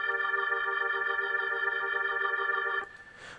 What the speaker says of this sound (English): the mod wheel will turn the rotator up and basically make it sound like this